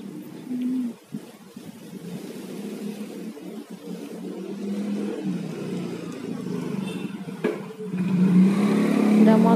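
A motorbike engine rumbles low and steady, swelling louder toward the end as it passes close by, with no talking over it.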